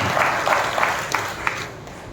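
Brief burst of congregational clapping at a church service, a steady wash of many hands giving thanks, fairly close and even throughout.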